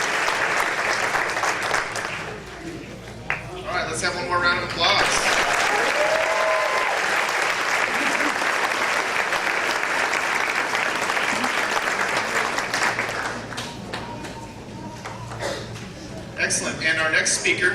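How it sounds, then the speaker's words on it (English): A sustained round of applause from a crowd at a graduation ceremony, steady clapping that swells and continues for a long stretch, with some voices mixed in. "let's have one more round of applause"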